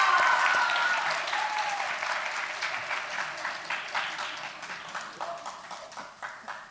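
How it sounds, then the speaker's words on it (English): Lecture-hall listeners give a round of applause for a speaker on twentieth- and twenty-first-century warfare; the dense clapping starts strong and gradually thins and fades over several seconds. "let's welcome him with a round of applause"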